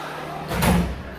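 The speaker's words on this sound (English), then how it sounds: "she just shut the door" A door is shut once with a short, fairly loud thud in an indoor room, standing out from a low background hum.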